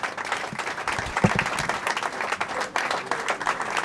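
Sustained applause from an audience honouring the DIPRO candidates at a Kinshasa event, steady dense clapping close and loud throughout.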